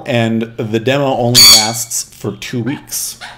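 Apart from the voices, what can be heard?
pet birds squawking indoors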